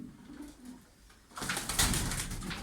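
Low, soft cooing from pigeons in a low-roofed coop, then a sudden louder burst of rustling and fluttering that continues to the end.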